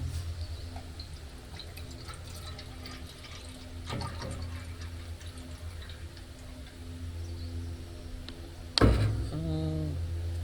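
Water runs and splashes steadily into a titanium stove cup, set up for an alcohol stove boil test, with a sharp clatter of handling near the end as the pouring continues.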